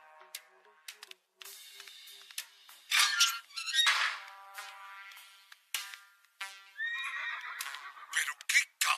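Horse in an Adventure Time video game, a series of high squealing neighs and whinnies in bursts separated by brief silences, with speech in between.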